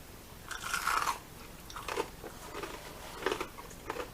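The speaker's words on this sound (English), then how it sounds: "let's try some onion rings in the sauce" Crunchy onion rings dipped in sauce being bitten and chewed up close, with a loud crisp bite followed by several softer, irregular crunches, quiet and with no talking.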